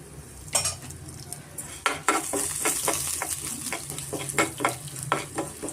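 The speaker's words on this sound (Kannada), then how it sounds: "ಸ್ವಲ್ಪ ಎಣ್ಣೆನಲ್ಲಿ ಚೆನ್ನಾಗಿ ನಾವು ಫ್ರೈ ಮಾಡ್ಕೋಣ" Cumin seeds and black pepper fry in hot oil in a pan, a steady soft sizzle under scattered sharp clinks and scrapes of a spoon stirring against the metal.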